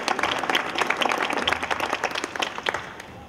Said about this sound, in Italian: un applauso più che doveroso